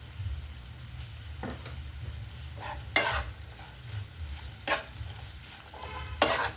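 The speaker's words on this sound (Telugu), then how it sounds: "ఒక చుక్క ఆయిల్ వేస్తానండి, గోంగూర కూడా వేయాలి కదా" Gongura leaves fry in a drop of oil while a spatula stirs them, a low continuous sizzle broken by several sharp scraping strokes against the pan, heard up close without speech.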